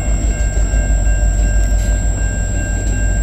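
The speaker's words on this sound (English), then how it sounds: "4100 LTSX switcher. All right, it's a GP9." An LTSX GP9 switcher locomotive number 4100 rolling past on the Dundas Subdivision in London, Ontario, a loud continuous diesel rumble and rail noise with a steady high whine, close and unbroken.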